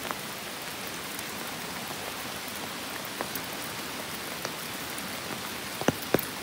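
Steady rain falls in a forest near Kristiansand, Norway, a soft even hiss of drops on leaves and ground with a few louder individual drips near the end, no talking.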